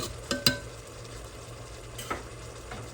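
Ground turkey and sausage meat sauce with tomatoes and onions simmering in a pot, a low steady sizzle with a couple of sharp spoon scrapes near the start and another light knock later.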